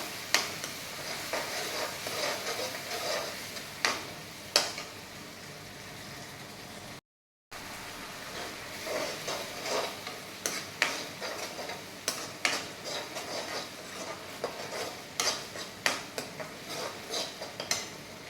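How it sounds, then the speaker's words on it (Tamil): Tomato puree being sautéed and stirred in a pan, with steady sizzling and frequent clinks and scrapes of a spoon against the pan, close and continuous apart from a brief gap. "2 தக்காளி பியூரி பண்ணி வச்சுருக்கோம், அதை போட்டு நல்லா வதக்கிக்கலாம்."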